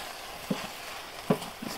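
Nopales (cactus paddles) stirred in a pan with a soft steady sizzle, broken by a few light scraping knocks of the utensil against the pan.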